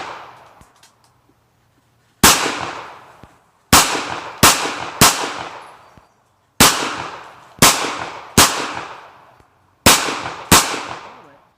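A Kel-Tec PMR-30 handgun fires sharp, loud shots outdoors, starting with a single crack and then coming in quick clusters of two and three, each report ringing out briefly before the next.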